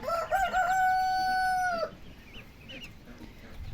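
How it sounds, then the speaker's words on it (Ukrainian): A rooster crows once in a village, a loud, clear call lasting under two seconds, followed by quieter rustling and faint distant chirps. "Петухи співають."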